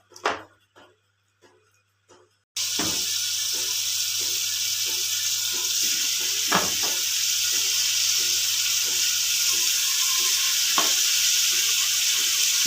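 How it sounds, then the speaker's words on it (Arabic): Lamb or goat meat sizzles loudly and steadily as it sautés in oil in a pan, with occasional stirring clatter, after a few quiet knocks at the start. "لحمة الجديان او اللحمة الضاني بعملها بالزيت، بشوحها كده"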